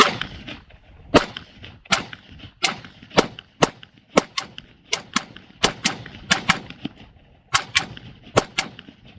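Heckler and Koch USP Expert pistol firing 115 grain rounds at a range, a rapid string of sharp, loud cracks in irregular quick bursts, each shot snapping out clearly with brief decay between.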